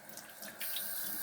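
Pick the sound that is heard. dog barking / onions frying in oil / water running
water running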